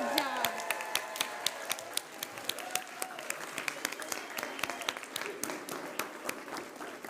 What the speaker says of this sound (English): Will you all give yourselves a round of applause?